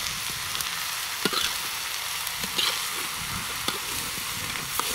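Food sizzles and crackles steadily in a hot wok over a gas burner, with occasional scraping stirs from a utensil as it is stir-fried, close by, and no voices.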